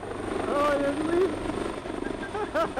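A helicopter flies in to deliver a mini excavator on an island, its rotor thrum steady and fairly close beneath people talking.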